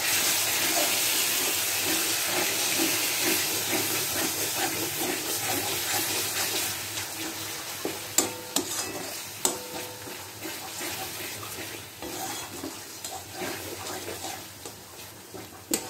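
Ground spices with turmeric, salt, Kashmiri chili and a little sugar hit the pan in mutton fat along with their soaking water, giving a wet rushing hiss and splashing that settles into bubbling sizzle with occasional knocks and clatters.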